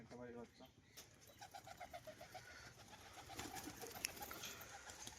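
Domestic pigeons kept by a pigeon fancier coo softly in a steady low murmur, close by, with people talking over them throughout.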